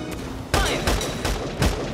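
Video game gunfire from Valkyria Chronicles 4, a quick series of four or five loud, close shots in an uneven burst after a short quieter lead-in.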